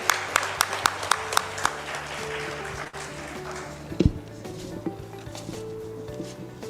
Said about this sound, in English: With a big round of applause, may I now request ma'am to come on here stage